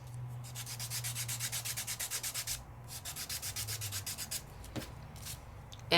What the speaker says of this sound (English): You're just going to sand off the color that was on it.